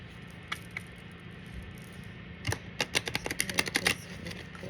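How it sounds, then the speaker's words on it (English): Celestial Insights oracle cards shuffled by hand over a low steady hum, a few soft taps followed by a rapid run of crisp card flicks. "So I am going to draw just a couple cards from the Celestial Insights deck."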